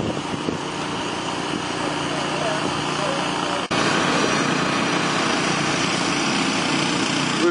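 A pump engine runs steadily outdoors, filling an aqua dam during a culvert replacement. It gives a loud, continuous droning roar, with a brief dip midway before it carries on unchanged.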